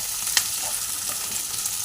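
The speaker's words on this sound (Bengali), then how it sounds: "লঙ্কাগুলোও দিয়ে দিলাম।" Green chillies and onions fry in hot oil in a pan, a steady dense sizzle close up with a brief stir clack early on and no talk.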